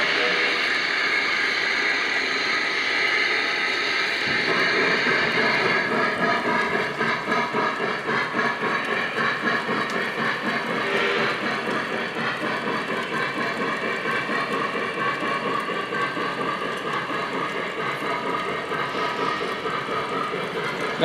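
Lionel Legacy S3 Northern model steam locomotive pulling Hiawatha cars, a steady mechanical whir with rhythmic clicking of wheels on track and hissing steam chuffs, close and continuous with a brief voice under it.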